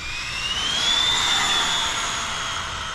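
An 80 mph electric RC truck runs at three-quarter throttle, its motor giving a loud, high-pitched whine that rises and then holds steady for a few seconds, with no voices.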